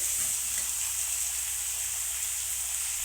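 Onions fry in oil with mustard and fenugreek seeds for a yam curry, making a continuous, even hiss and sizzle that holds steady throughout, close and moderately loud with no talking.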